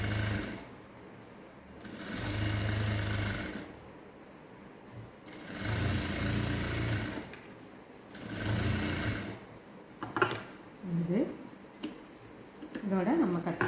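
Elastic is being stitched onto fabric for a peplum top on a sewing machine, running in three close, steady bursts with pauses, followed by quiet handling and someone talking.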